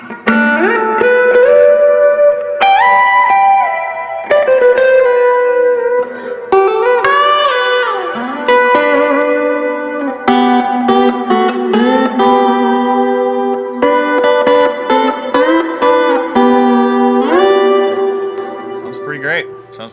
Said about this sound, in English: I use this type of reverb for like ethereal type stuff